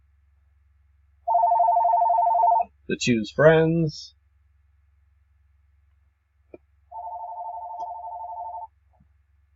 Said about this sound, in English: so sorry about that phone call interruption.